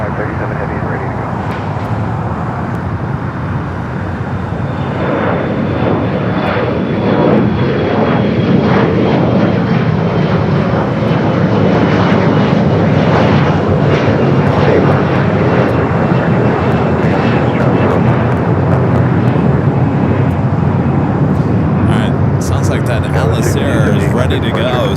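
Giant 8537 Heavy jet departing LAX on runway 25 left builds a loud, rolling engine roar that grows and fluctuates across the span, with voices talking over it.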